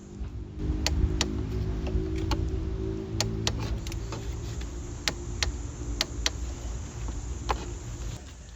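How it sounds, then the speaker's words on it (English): A torque wrench set to 25 Nm clicks repeatedly while tightening 13mm tensioner bolts on an MK4 Golf TDI, sharp irregular ticks over a low steady background hum. "pulling out the torque wrench for some quality ASMR, this time setting it to 25 Nm"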